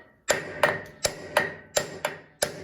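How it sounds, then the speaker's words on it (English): A hammer strikes a wheel stud on a Ford 7.3 OBS truck rear hub seven times in quick succession, sharp ringing taps at a fairly even pace, close by and with no talking. "Just hit it with a hammer right here, just some love taps"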